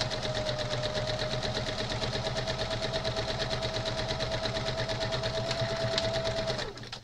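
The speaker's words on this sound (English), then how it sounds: "I'm going to stitch those two together" A sewing machine stitches two quilt pieces together for a jazzy crazy quilt, a steady close whirring hum with fast even needle ticking that runs unbroken and halts just at the end.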